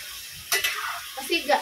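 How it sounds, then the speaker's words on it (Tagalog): Chicken adobo with oyster sauce is stirred in a hot pan, with a close scrape of a utensil over a soft sizzle in a brief burst. "Ayan, halo-haloin natin."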